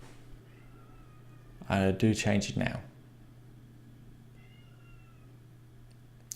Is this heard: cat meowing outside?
yes